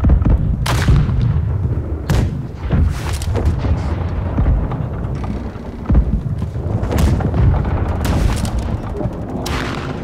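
Ship cannons firing a broadside in a Blackwake naval battle, a rapid series of heavy booms at irregular intervals over rumbling sea and battle noise.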